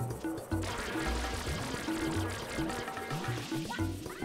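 Gurgling, splashing water pours out in repeated bursts as an enemy vomits water in Super Mario Sunshine, with game effects and music-like tones layered over a busy, steady liquid wash.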